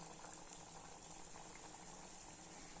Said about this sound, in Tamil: இப்போ எண்ணெய் போட்டுக்கலாம் ஒன்று ஒன்றா.